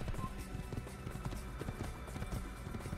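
Horse hoofbeats from riding in Assassin's Creed 1, a steady galloping clip-clop running through the whole stretch at moderate loudness over a low game ambience.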